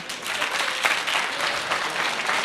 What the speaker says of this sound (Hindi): बीच में ताली बजा रहे थे क्या?